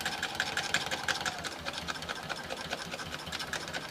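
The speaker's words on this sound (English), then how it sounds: "I'm going to make these stitches." Sewing machine stitching fabric appliqué for a gnome's beard in a steady, quick mechanical chatter, moderately quiet and close, with no voices.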